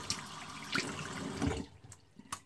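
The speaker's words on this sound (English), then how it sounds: "I'm going to wet the brush under some hot water." Hot water runs from a tap over a shaving brush being wetted, a close splashing rush that cuts off after about a second and a half, leaving a few faint drips.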